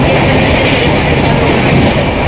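A moving passenger train rumbles loudly and steadily with continuous clickety-clack from the carriage, heard from inside without talk.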